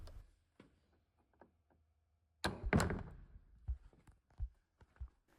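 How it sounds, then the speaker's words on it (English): A church door latch gives a sharp metallic click and clunk, followed by a few softer knocks and taps nearby in a quiet interior. "So there's a door. Hang on a sec, we need to listen to this because it's a good click."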